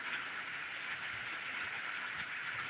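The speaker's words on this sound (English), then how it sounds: "I was hoping I'd be able to feed the birds, but it's already raining" Early morning rain falling steadily outdoors in Roanoke, Alabama, a soft continuous hiss with a faint patter of drops, even and fairly quiet with no talking.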